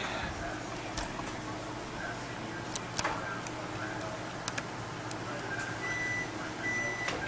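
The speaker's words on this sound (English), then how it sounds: "there goes the timer" A kitchen oven timer goes off while London broil cooks in a dining car galley, its thin, repeated electronic beeps sounding fairly clearly over a steady background hum.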